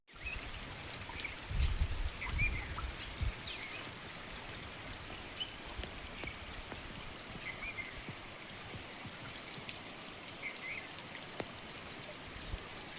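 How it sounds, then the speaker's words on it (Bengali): Continuous light rain falls outdoors around a rural fishing spot, a soft, steady hiss with scattered drips and patters, one louder disturbance early on, then an even wash to the end with no speech. "কন্টিনিউ বৃষ্টি হয়েছে, কম আর বেশি।"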